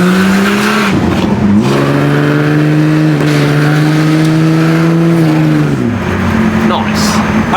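A supercharged car accelerates hard with a loud, steady engine roar and a rising whine, climbing through a few gear changes. It is heard from inside the cabin.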